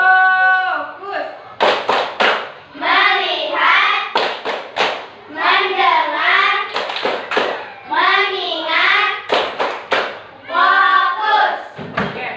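Elementary school pupils in an Indonesian classroom (SDN 67 Cangadi I) do the rhythmic tepuk fokus routine, sharp groups of hand claps falling between loud, sung chanted phrases led by the teacher.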